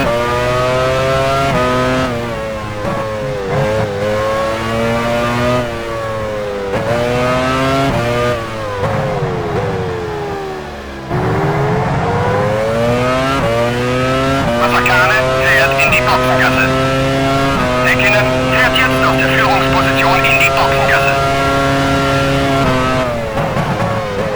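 A Formula 1 race car in F1 Challenge 99-02 at Sepang, Malaysia, pulls into the pit lane, its engine whining loudly and steadily with pitch rising and falling as it slows and revs, plus a brief dip mid-way.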